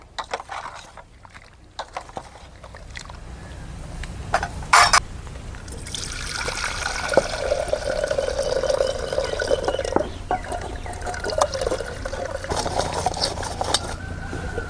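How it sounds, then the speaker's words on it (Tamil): Dried fish being swished and rinsed by hand in hot water in a kitchen pot, with a continuous close, loud trickling and sloshing of liquid after a few scattered clinks and splashes at the start. "கருவாட்டை சுடு தண்ணியில் போட்டு சுத்தமாக அலாசி எடுத்துக்கணும்."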